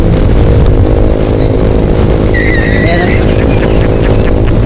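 A Honda Click and a Yamaha Mio 125 motorcycle race side by side with steady, loud engine drone, recorded up close from a moving rider amid continuous wind and road noise.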